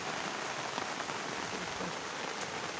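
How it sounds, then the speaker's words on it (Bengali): Heavy rain pours steadily on a rooftop, a dense, continuous hiss with no pauses and no voices. "প্রচণ্ড বৃষ্টি হচ্ছে, বৃষ্টি মানে প্রচণ্ড বৃষ্টি"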